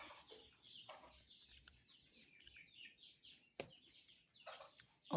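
Chickens kept in a pen just outside a house cluck and call repeatedly at moderate distance, with sharp sporadic calls over quiet background.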